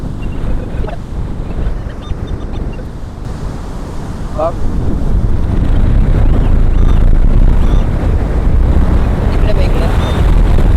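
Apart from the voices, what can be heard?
strong wind on the beach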